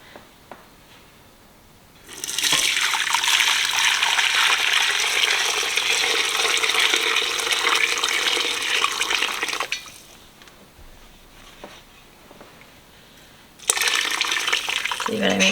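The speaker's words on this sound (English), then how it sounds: "I'm going to strain it now." Chicken broth for chicken and dumplings being poured through a strainer, a loud continuous rush of liquid for several seconds, then a quieter pause before another burst of pouring.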